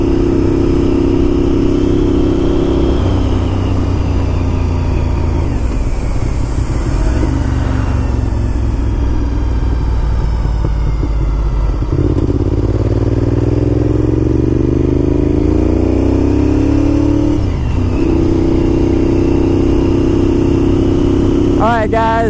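A 2001 Honda RC51 motorcycle engine runs loud and near, holding a steady drone with several rises and falls in pitch as it revs and shifts, while someone talks over it.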